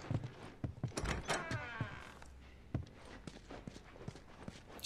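A door creaks open inside a house in The Last of Us, followed by scattered footsteps and soft knocks on a hard floor, close and moderately loud.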